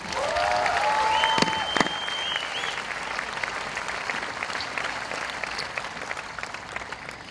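A large crowd at a high school commencement applauds steadily, with a couple of shrill whistles and whoops rising over the continuous clapping early on.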